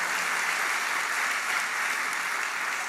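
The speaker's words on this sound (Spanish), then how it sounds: "Alguien debería aplaudir el nombre del Señor." Church congregation applauding during a sermon, a steady broadband wash of many hands clapping at moderate distance, even and unbroken throughout.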